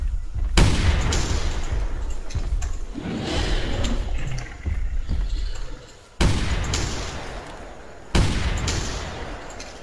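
Loud rifle gunshots ring out in the hunting game The Hunter Primal: several sharp cracks with long decaying tails, two isolated shots spaced a couple of seconds apart near the end.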